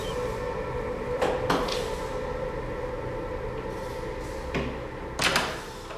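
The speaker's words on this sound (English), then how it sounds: "The door closes." A gallery door shuts in a quiet room with a low steady hum underneath, giving a couple of soft thuds and clicks, a second faint knock and a final louder latching clunk, with no voices.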